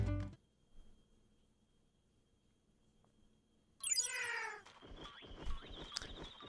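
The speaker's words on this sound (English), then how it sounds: "Machinedramons makes like a weird meow noise whenever he sees me." Machinedramon in the video game Digimon World: Next Order gives a strange, warbling meow-like cry, loud and close, after a quiet stretch of faint game ambience.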